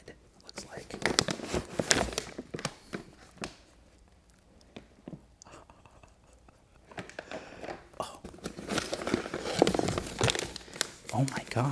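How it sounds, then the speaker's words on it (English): Packaging being opened and handled for ASMR gives bursts of close crinkling and rustling, with quiet stretches between them and soft whispered talk throughout. "it comes in some really great ASMR packaging. Perfect for ASMR."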